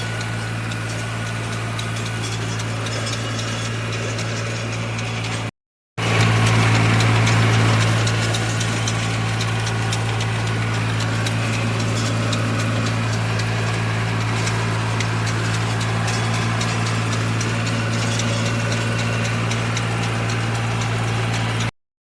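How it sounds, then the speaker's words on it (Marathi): A tractor pulling a rotavator in an orchard runs steadily nearby with a low, even drone, briefly cutting out before resuming at the same constant level. "इथनं ट्रॅक्टर चालवं"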